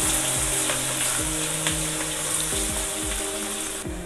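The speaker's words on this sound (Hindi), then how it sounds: "2 मिनट के लिए मैंने मसालों को भून लिया, मैं इसमें प्याज ऐड करती हूँ।" Sliced onions sizzle in hot oil with spices in a pan, a loud, steady close frying hiss broken by a few stirring scrapes, with no talking.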